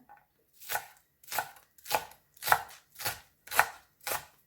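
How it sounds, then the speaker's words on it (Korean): A knife slices a small green onion (daepa) diagonally on a cutting board for Korean pork soft tofu stew, giving seven crisp, evenly spaced chops about every half second, close and clear with no talking. "대파 작은 한 뿌리도 어슷썰게 해줍니다."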